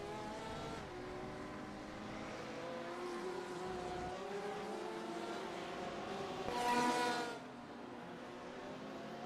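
A Corvette GTE race car engine screams past with rising and falling harmonic whine, swelling loudest near the end as it passes close, then fading.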